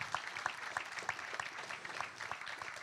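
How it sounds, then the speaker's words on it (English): Audience applause in a talk setting, a quiet, fairly distant spread of clapping hands with some louder individual claps, sustained evenly across the short span. "I'm going to give him a round of applause"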